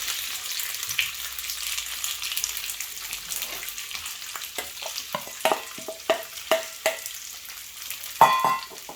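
Sliced boiled potatoes fry in oil for German Bratkartoffeln, a steady close sizzle broken by repeated scraping and stirring knocks against the pan, with no talking.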